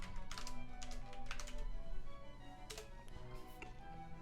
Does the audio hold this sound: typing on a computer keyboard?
yes